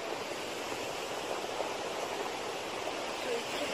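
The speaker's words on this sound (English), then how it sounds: "Maybe you can hear, guys, the water." Rushing water of a stream at Tiwi, Albay, a continuous broadband hiss of flow at steady, moderate level, heard from above a steep slope without talk.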